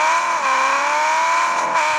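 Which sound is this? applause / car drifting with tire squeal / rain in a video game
car drifting with tire squeal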